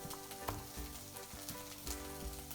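Food frying in a pan on the highest heat for Chinese-style egg fried rice: a steady, close, continuous sizzle with occasional clicks and scrapes of stirring, no talk.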